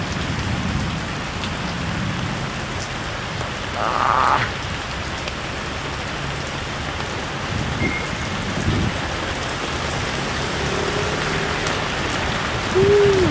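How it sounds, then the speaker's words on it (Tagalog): Heavy rain pours continuously, a dense steady hiss of drops hitting surfaces, with a few faint scattered sounds in the background. "lakas ng ulan dito"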